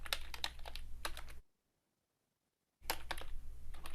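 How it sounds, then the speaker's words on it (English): Keys on a computer keyboard clatter in quick bursts while a blog post is typed, stopping for a silent pause of about a second and a half before the close, steady tapping resumes. "then you type whatever you want"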